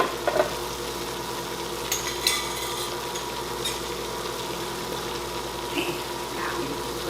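Water at a rolling boil in a large canning pot for water-bath processing grape juice jars, a steady bubbling, hissing roar close by with a low background hum and a few faint clinks.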